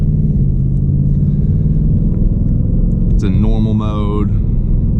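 A 2024 Ford Mustang Mach 1 rumbles steadily while driving slowly to turn around, its low drone continuous under a person talking, with a brief higher whine rising near the end.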